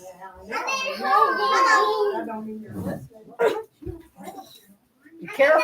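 A dog barks a few times in short bursts close by, mixed in with someone talking and whimpering sounds inside a house.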